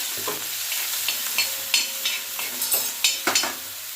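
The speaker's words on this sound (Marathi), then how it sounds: "आता मिक्स करून घेऊया" A spatula scrapes and stirs an okra mixture on a hot griddle, steady sizzling underneath and irregular sharp scrapes, close and fairly loud, with no talking.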